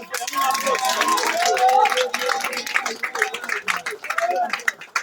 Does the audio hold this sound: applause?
yes